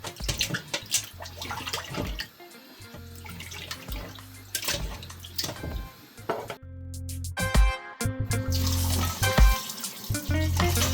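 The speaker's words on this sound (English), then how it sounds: "And then we rinse again." Tap water runs and splashes over beef kidney in a bowl after a lemon squeeze, with irregular gushes, sloshing and handling noises close up, nobody speaking.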